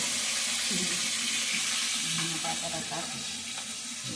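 Food sizzles and fries steadily in a home kitchen as a mother cooks, heard at a modest distance with faint water and utensil sounds mixed in.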